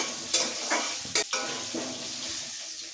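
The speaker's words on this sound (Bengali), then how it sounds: "আলুগুলোকে একটু লাল লাল করে ভালো করে ভেজে নিচ্ছে" Potatoes frying in hot oil with salt and turmeric give a close, steady sizzle, broken by a few sharp clinks and scrapes of a spoon stirring against the pan.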